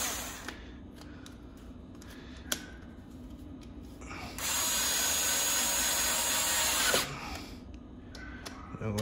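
Screws being tightened on a Sprinter Aurega R26 electric bicycle with a 1000W kit: a single steady, motorized whirring burst of about two and a half seconds, close and loud, framed by quieter handling clicks.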